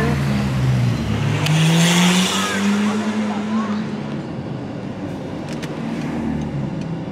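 A Ferrari F8 Spider supercar accelerates through Monaco streets, its engine note rising in pitch as it pulls away, loud at first and then fading into street noise, with voices audible around it.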